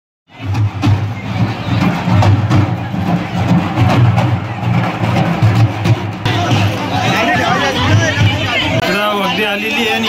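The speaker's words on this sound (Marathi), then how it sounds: "यावेळेस जास्त गर्दी आहे" A dense crowd hubbub fills an outdoor festival where food offerings are being handed out, with loud, continuous overlapping voices near and far and a rising swell of chatter toward the end.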